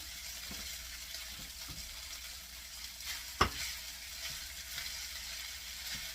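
An egg sizzles steadily in a hot pan while a utensil stirs and scrapes, breaking it up, with one sharp clack partway through.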